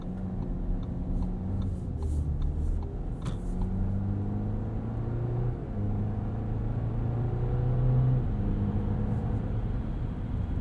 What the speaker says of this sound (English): You get a little bit of a buzzy 4-cylinder.